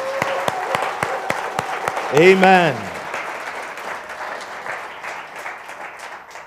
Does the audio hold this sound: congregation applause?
yes